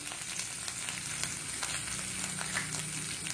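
Mustard seeds sizzle and crackle in hot oil for tempering, a steady crisp fizz with small pops, heard alone without any talking.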